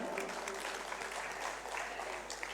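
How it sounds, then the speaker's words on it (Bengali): An audience at a jatra festival claps together, a spread-out patter of many hands heard from some distance, fairly faint and sustained briefly without voices. "তাই আরেকবার পশ্চিমবঙ্গ যাত্রা সম্মেলনকে সবাই মিলে একটা করজোরে জোরে হাততালি চাই"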